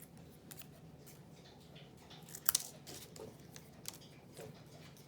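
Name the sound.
scissors cutting coffee stirrers or popsicle sticks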